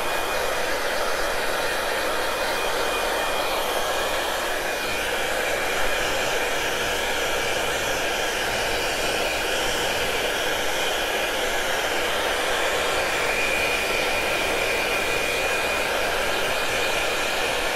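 A hair dryer runs steadily and loudly throughout, blowing to dry paint on an upcycled silver-plated piece, a constant broadband whoosh with no talk.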